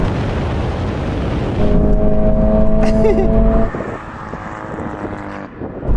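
A Toyota sports car's exhaust roars loudly nearby during a drag race, with rising, revving tones that then drop to a lower steady growl, with wind buffeting throughout.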